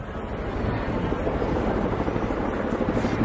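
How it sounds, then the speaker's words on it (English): A Boeing CH-47 Chinook helicopter makes a fast, low approach with an aggressive turn at an airshow demonstration, its heavy rotor thump and engine roar loud, steady and close throughout. "Chinook making a fast and low approach to avoid enemy fire with an aggressive turn to position for the casualty"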